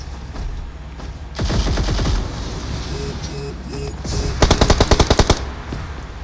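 Machine gun fire in the mobile game BGMI PUBG Mobile, with several rapid bursts of close, loud automatic shots and a sharp final volley.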